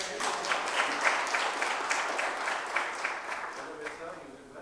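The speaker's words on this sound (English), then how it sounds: "Can we have an applause for him?" Audience applause at a knowledge seminar, steady clapping from a crowd with scattered voices mixed in, moderately loud throughout.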